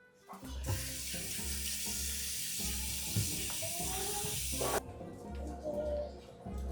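Vegetables rinsed under a running kitchen tap, a steady hiss of water hitting the sink with scattered splashes as the produce is handled, close and continuous until the flow cuts off partway through; a faint voice is heard.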